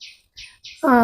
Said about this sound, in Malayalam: എന്തോ ഒരു കിളിയുടെ ഒരു ശബ്ദം ഇവിടെ പല കിളികൾ ഇവിടെ പല പക്ഷികൾ ഇവിടെ വരുന്നുണ്ട്